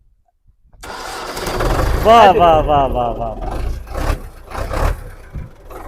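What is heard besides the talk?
Belarus tractor engine starting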